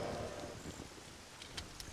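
Steady rain falling indoors in The Legend of Zelda: Ocarina of Time on N64, a constant hiss of rainfall with a few scattered brighter splashes, with no talking over it.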